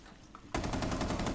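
A quiet moment in the game Rainbow Six Siege broken by a sudden burst of rapid automatic gunfire that keeps rattling steadily to the end, loud and close.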